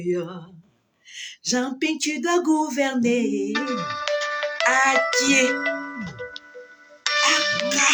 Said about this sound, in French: le téléphone, là où elle appelle, là, c'est le téléphone de droit.